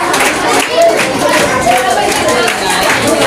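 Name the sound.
audience clapping at school award ceremony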